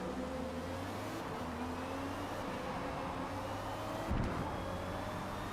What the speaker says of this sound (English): Man, do you hear those cars? They sound insane.